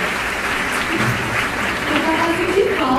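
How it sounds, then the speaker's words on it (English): An audience at a literary festival's spoken-word session applauds in a full, steady wash of clapping that holds at an even level throughout, with a voice faintly audible underneath. "I was missing the applause."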